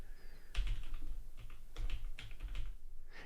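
Fingers tap on a computer keyboard in a few short clusters of soft, close keystrokes, with quiet gaps between them in an otherwise still room.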